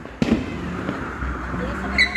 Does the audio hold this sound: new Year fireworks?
yes